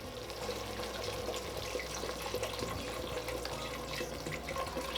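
Beef broth poured into a pot of stew, a steady liquid rush that runs continuously at moderate level with no voices.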